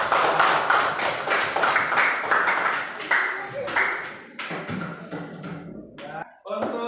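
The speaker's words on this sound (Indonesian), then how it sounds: "Ya, tepuk tangan." A classroom of students claps in a dense burst of applause that thins into scattered claps and taps before fading out, with some voices mixed in.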